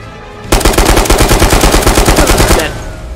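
Rapid automatic gunfire with heavy recoil in the video game Ghosts of Tabor, a loud, steady burst of evenly spaced shots lasting about two seconds before stopping abruptly.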